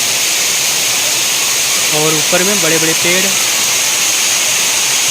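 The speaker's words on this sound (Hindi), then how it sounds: "ये रहा एक सुंदर सा नज़ारा सीढ़ियों से पानी गिरते हुए झरनों पे" Water cascading down steps near Bhairav cave, a loud steady rushing roar held close throughout, with a voice speaking briefly over it.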